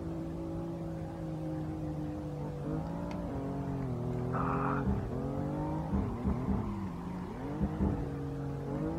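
A BMW M4 in Assetto Corsa races up the Mount Akina touge, its engine droning steadily through gear changes and rising revs, with a brief burst of tire squeal mid-run and bumpy throttle surges near the end.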